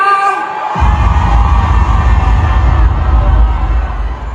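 A concert audience roars and cheers at a live show, a loud, sustained wall of crowd noise with shouts and whoops that surges in abruptly after a moment of a single voice and holds steady to the end.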